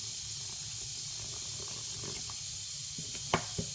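Water poured into banana fritter batter made with flour, baking powder and a pinch of salt, giving a steady soft hissing trickle throughout, with a couple of small clinks near the end.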